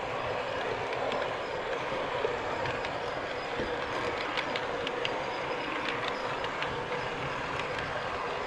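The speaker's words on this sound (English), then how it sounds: "turn the sound on for the locomotive" Faint, steady rumble of a model train locomotive running on a layout with a horseshoe curve, soft rhythmic clicking and a few squeaks over continuous running noise, with no talking.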